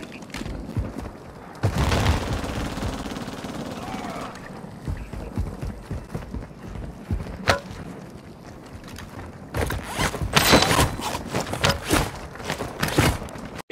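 Gunfire from a Hemlock rifle in Call of Duty Warzone on Rebirth Island: bursts of sharp shots and booms come in clusters, loudest near the end, with footsteps, mechanical clatter and a brief voice in between.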